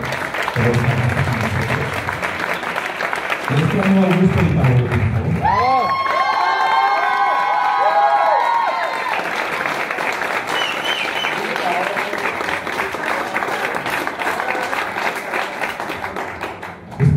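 A studio audience applauds and cheers loudly and continuously at a presentation for a horror television series, while a voice speaks over the clapping.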